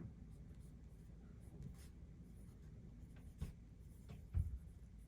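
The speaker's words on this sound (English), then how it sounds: "So first we have our Pilot S3 series. So I'm just going to write that here." A Pilot S3 pencil with 0.3 mm lead writes in a sketchbook, a faint, close, steady scratch of graphite on paper with a few slightly louder strokes near the end.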